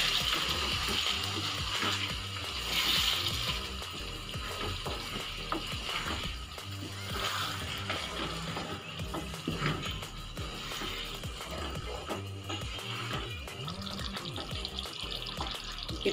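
Water poured from a blender jar into a pot of hariyali chicken and stirred, a steady watery splashing and sizzling with scraping stir sounds running throughout, no talking.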